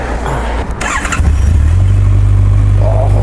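A Honda CB1100RS air-cooled four-cylinder motorcycle starts up close by: a brief cranking whir, then the engine catches at about the one-second mark and settles into a steady, slightly uneven cold idle rumble.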